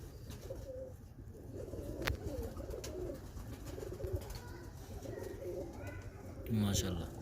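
Faisalabadi breeder pigeons, pearl-eyed birds, coo softly and repeatedly in a loft, the low murmuring calls faint and continuous beneath background noise and occasional human voices.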